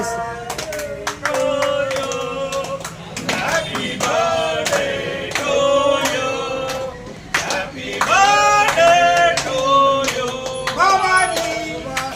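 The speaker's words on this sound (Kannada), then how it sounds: "ಸರ್ ಜೋರ ಹೇಳ್ರಿ ಎಲ್ಲರೂ ಚಪ್ಪಾಳೆ" A group claps for an elder, Subhash Bhimappa Hiddugi, at his 73rd birthday celebration: bursts of scattered hand claps that swell and fade twice, mixed with voices and tonal singing or music.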